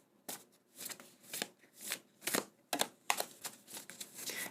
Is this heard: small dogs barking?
no